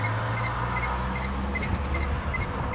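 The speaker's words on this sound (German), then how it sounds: "Ihr hört wahrscheinlich den Blinker hier im Hintergrund." A Renault Twizy's turn signal ticks in a steady, even rhythm, faint against the low hum of the engine inside the car.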